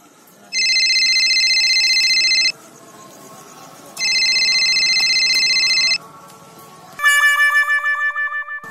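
A phone rings in two long electronic bursts separated by pauses, with the call going unanswered, followed by a bright chiming tone sequence; close and loud, with no talking.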